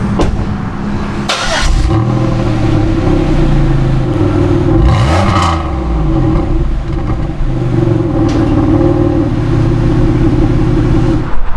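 A detailed car driven outdoors after an exterior paint correction, its engine loud and close, rising and falling with several revs and gear changes over a steady running drone.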